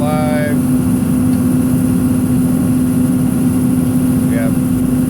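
An MEP-806B military diesel generator runs at a steady idle with a constant even hum and mechanical rumble. It is loud and unchanging throughout, with a brief faint tone near the start and end.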